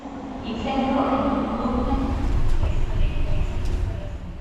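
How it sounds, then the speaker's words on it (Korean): A Mugunghwa train rolls into Suwon station early in the morning, a steady low rumble and rolling hum building and sustaining over several seconds, with a faint chime-like tone in the background. "(6시 6분에) 출발하는 무궁화호가 도착했네요."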